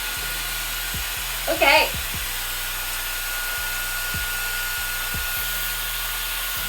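MERA Bi-ionic hair dryer switched on to its cool setting, a steady airy whir with a faint mechanical hum running throughout, with a brief voice in the middle.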